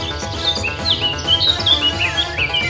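Wild birds calling in Aceh forest, a series of bright, repeated chirps and short whistled notes, close and fairly clear, over a low bed of insect buzz and forest ambience, with no talking.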